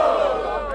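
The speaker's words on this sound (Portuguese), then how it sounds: "Barulho pro Alice, hein, Nicolas Walter" Crowd at a rap battle roaring and cheering for the competitors, a loud dense wash of voices close by over a brief moment.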